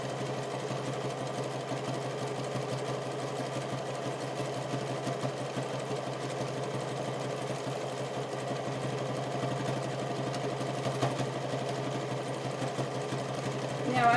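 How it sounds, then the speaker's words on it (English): Sewing machine running continuously on a wide zigzag stitch while shaping sides, a steady mechanical whir with fine rapid ticking, fairly close and even throughout, with quiet talk faintly underneath. "Now I've got a wide zigzag stitch, at least a 5"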